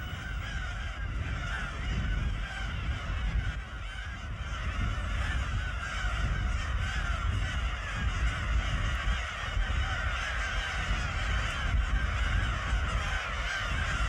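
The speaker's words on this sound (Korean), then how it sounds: "특히 이곳 칠산도는 가장 큰 괭이 갈매기의 번식지다." Black-tailed gulls clamour at their breeding colony on Chilsan Island, a dense, continuous wash of overlapping honking calls filling the air without pause, the flock close and loud with no voices.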